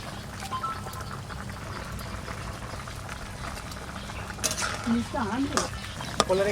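Chopped greens drop into a pot where potatoes boil with eggs and katwa stalks, giving a bubbling, stirred simmer with soft clinks and scrapes near the end, under a constant boil.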